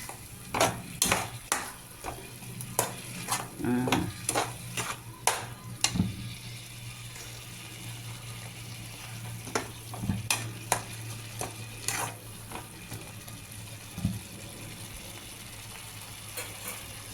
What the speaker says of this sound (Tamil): இப்போ வாசனை வருது, நல்லா ஆயிலில் ஃப்ரை ஆகுது